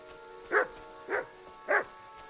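A dog in Kingdom Come: Deliverance II barks three times at an even pace, each short bark moderately clear against a quiet, faintly humming game background.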